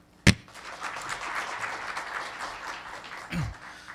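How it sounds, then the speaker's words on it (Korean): Audience at a Smart TV Global Summit applauding to welcome a speaker, a soft, fairly quiet spread of clapping framed by a couple of sharp bumps, likely from a microphone. "많은 박수로 환영해 주시기 바랍니다"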